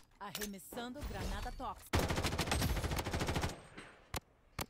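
Rapid automatic rifle fire from a shooter in the video game Blood Strike, a dense burst of close, loud shots following a stretch of talk, then two sharp isolated shots near the end.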